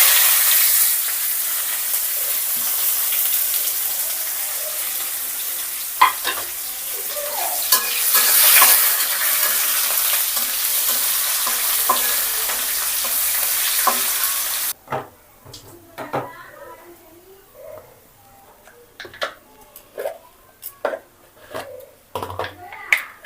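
Chopped onions with cumin sizzle loudly in a frying pan and get stirred for about fifteen seconds. After that the frying quiets and a run of sharp scraping and tapping stirs follows, with brief voices in the background.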